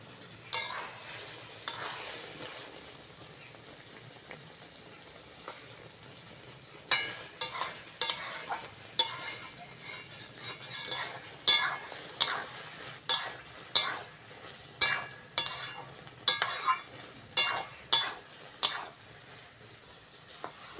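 Taro stolons cooking with shrimp in a pan, a soft sizzle underneath and then a run of sharp, rhythmic scrapes and clinks as a utensil stirs against the pan, loud and close.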